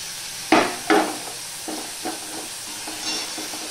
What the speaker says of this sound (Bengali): দেখো আলুগুলো ভাজা হয়ে গেছে